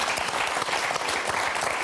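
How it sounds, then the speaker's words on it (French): A game show audience bursts into dense, loud applause for two contestants, a thick unbroken wash of clapping filling the whole moment. "Applaudissements pour Christophe et David."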